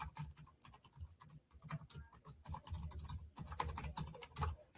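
Fast, steady typing on a computer keyboard while entering a name and email into a web sign-up form, a quiet close patter of key clicks with brief pauses and no talking.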